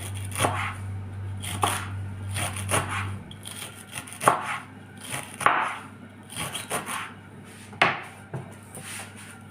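Knife chopping onions and green chillies on a board, close and clear, in uneven bursts of several quick strokes separated by short pauses.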